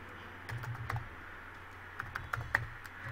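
Typing code on a computer keyboard, a quiet scatter of soft key clicks with a few sharper taps near the end, faint and close with no talk.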